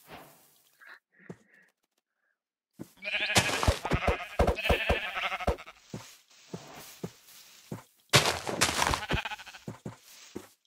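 Sheep bleating in the Minecraft video game, a few short faint calls first, then louder repeated bleats in bursts with gaps between them, close and alone.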